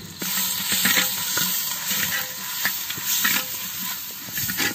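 Ginger garlic paste frying with onions in a clay pot, a steady close sizzle with scraping stirring strokes throughout and no talk.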